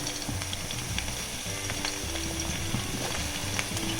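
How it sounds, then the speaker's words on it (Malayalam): Onions go into a pan of frying ginger, green chili and garlic, making a steady close sizzle with a rhythmic knocking of stirring and scattered crackles throughout, no voices over it. "അപ്പോൾ നമുക്ക് ഇനി സവോള ഇടാം."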